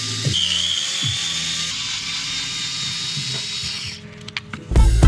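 Power drill backing screws out of a motorcycle airbox, a steady whirring drive that runs almost continuously, fairly close, ending in a few louder knocks and handling clatter.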